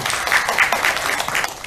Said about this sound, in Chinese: 我们掌声欢迎我们任秘书长。